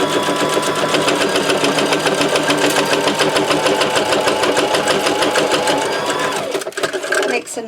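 A sewing machine stitches gold thread through journal papers. Its loud, rapid, even mechanical chatter runs continuously up close, then breaks off into a few uneven final stitches near the end.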